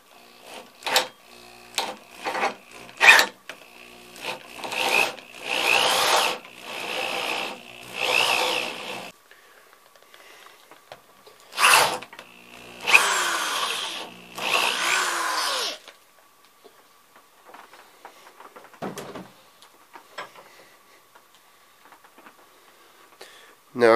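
A large drill held in a vise bores a hole into a piece of antler in bursts, with whirring runs of several seconds broken by pauses, sharp clicks and a few brief scraping sounds, up close and without talk.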